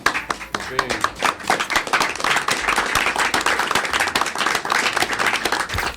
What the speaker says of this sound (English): we should give them a round of applause